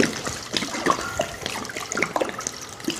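A small amount of water poured over wild black seaweed in a bowl, a light uneven splashing and trickling with soft clicks, close and fairly faint, lasting a few seconds with no talking.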